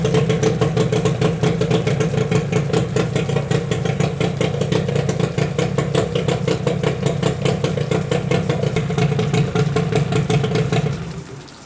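A Yamaha 8C outboard boat motor runs steadily at a fast idle with a rapid, clattering pulse, loud and close, cutting off abruptly at the end.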